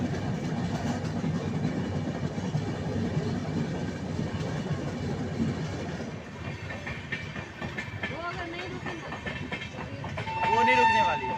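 An Indian intercity express running from Danapur to Jaynagar rumbles steadily on the rails near Sonpur Junction, heard from onboard, with clattering wheels, a brief horn toward the end and voices talking in the background.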